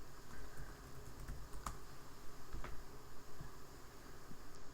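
Quiet typing on a computer keyboard, a light scatter of key clicks at an uneven pace, soft and close, with no talk.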